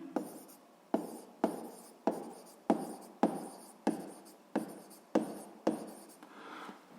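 Pen or chalk writing by hand while working a grade 7 physics exercise on gravity, a steady rhythm of about a dozen scratchy strokes, each sharp at the start and fading, close and clear with no talk.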